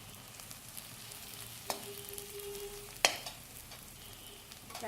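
Carrots sizzle steadily in a hot pan while stir-frying for chicken hakka noodles, with two sharp metallic clinks of a spatula against the pan.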